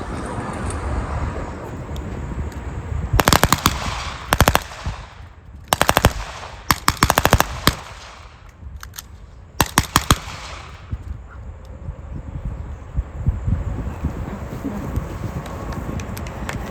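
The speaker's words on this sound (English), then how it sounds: "These are both fully automatic weapons, and we're going to try to see if we can't get them talking." An M16A1 rifle and an XM177 carbine fire fully automatic at an outdoor Army heritage demonstration, with several loud sharp bursts of rapid shots separated by pauses over wind and background rumble.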